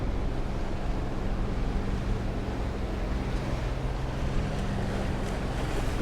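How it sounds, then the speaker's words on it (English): Steady wind and water noise aboard a 65-foot Hatteras long-range cruiser at sea at night, a constant broadband rush with low rumble throughout and no voices. "But wind picked up a little bit."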